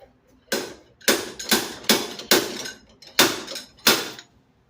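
A slide hammer strikes hard seven times, pulling a hub bearing on a Mazda RX-8. The metallic blows are loud and close, spaced roughly half a second apart with a short pause midway, and no talk.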